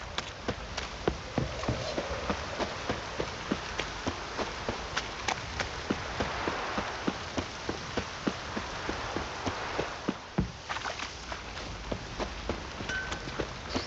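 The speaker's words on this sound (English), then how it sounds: "Proper downpour this is." Heavy rain pours steadily in The Witcher 3 game world, a dense continuous hiss of drops on surfaces with soft patter and small splashes throughout, no talking.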